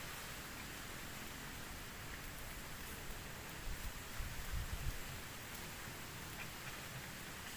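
Strong wind roars steadily during an extreme honey bee harvest, with rustling gusts building midway through; a broad, continuous rushing noise without speech.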